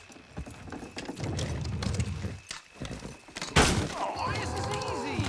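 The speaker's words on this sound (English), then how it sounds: "Good horses." Horses pull a wagon in Red Dead Redemption, their hooves clip-clopping and thudding alongside wagon rumble and creaks, close and busy, with a voice talking over it.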